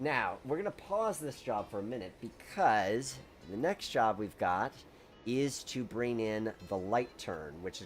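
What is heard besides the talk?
No distinct noise like a dog, phone or traffic.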